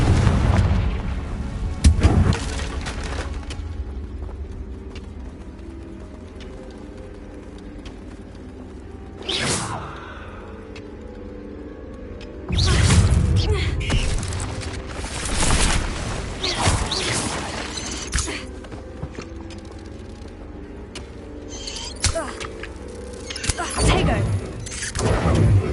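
In the Hogwarts Legacy video game, a Confringo blasting spell sets off booming explosions with crashes and whooshes, amid a continuous game soundtrack and effects.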